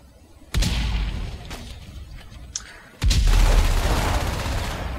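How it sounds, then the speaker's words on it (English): Grenades thrown by a Marine bursting in the Natural Selection 2 game, two loud booming blasts a few seconds apart with rumbling, crackling tails, no voices. "another Marine coming in with grenades from the doorway"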